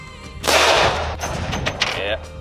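A single loud gunshot from a Glock 40 MOS 10mm longslide pistol fitted with a Trijicon RMR red dot, fired at an outdoor range, with a sharp blast followed by a rolling echo that lingers and fades.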